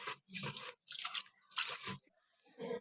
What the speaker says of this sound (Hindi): पानी डालने के बाद हाथों की मदद से अच्छी तरह चावलों को मलेंगे।